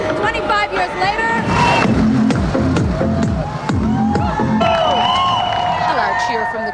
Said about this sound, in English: a loud cheer from the crowd when the first gay couple legally married in Canada, the Michaels, walked past